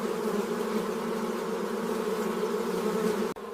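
Honey bees buzzing inside the hive, a dense continuous drone of many wings, steady and close, cut by a brief dropout near the end.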